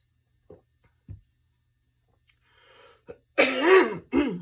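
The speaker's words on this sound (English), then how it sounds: "I just can't seem to clear my throat." A few faint taps, then a person clears their throat loudly and roughly at close range, in short bursts near the end.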